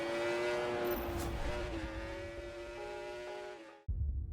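A motorcycle engine in RIDE 4 at Suzuka revs hard and steady during a wheelie, then shifts pitch and cuts out abruptly before a final short burst of noise.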